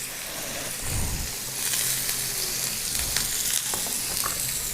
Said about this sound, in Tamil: இப்போ இந்த நறுக்கி வச்ச ஒரு வெங்காயத்தை போட்டுக்கலாம்.